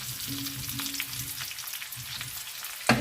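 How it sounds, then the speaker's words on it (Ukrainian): Chopped onion and parboiled potatoes fry in a pan on a gas stove, a steady broadband sizzle with a few soft low knocks, ending in a sharp brief clatter as the pan is stirred. "Цибулька так гарно присмажується, вже вона почала золотитись така."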